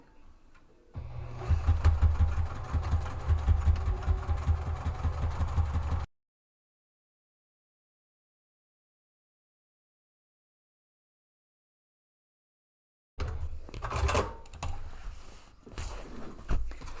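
A sewing machine stitches slowly around the top edge of a fabric drawstring purse, a steady mechanical whir for several seconds, then a long silent gap before the motor runs again unevenly near the end.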